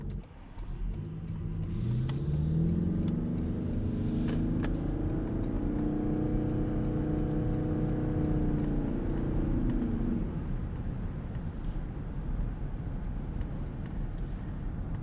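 A 2025 Toyota Crown Signia's 2.5-liter naturally aspirated four-cylinder hybrid engine drones loudly under acceleration, its tones rising steadily for several seconds before settling into quieter road rumble.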